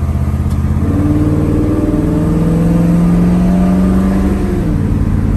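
A 1972 Chevrolet El Camino on the road, its engine a steady, close low drone with rising and falling hum as it cruises, continuous throughout with no voices.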